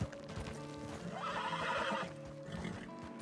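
A horse neighs loudly in Red Dead Redemption 2, a shrill whinny rising and falling over steady clip-clopping hooves, close and clear.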